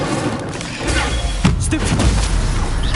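A fire spell cast in a PlayStation 5 video game erupts as a loud, sustained whooshing burst with a sharp thump midway, filling the short span without talk.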